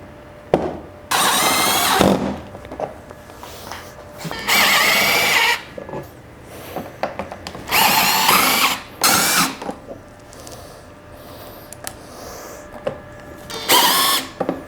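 A power drill whirs in several short, loud bursts as 3/4-inch stainless self-tapping screws drive into a PVC gate, separated by quiet pauses and light handling noises.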